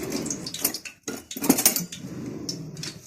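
A spoon whisks a seasoned mixture with pepper flakes, black pepper and salt in a bowl for fried beans, quick clinking and scraping strokes against the dish with brief pauses, close and fairly loud with no talking.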